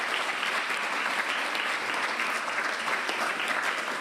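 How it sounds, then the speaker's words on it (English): A ripple of applause for a choir at a Christmas programme launch event, steady clapping from a gathered audience that lasts several seconds without a break. "maybe a ripple of applause just to thank them for being here"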